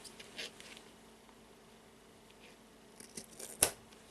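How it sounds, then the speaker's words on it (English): Scissors snip yarn from a handmade fishtail-braided friendship bracelet, a quiet faint rustle of handling followed by a single sharp close cut near the end. "Now I will grab the scissors"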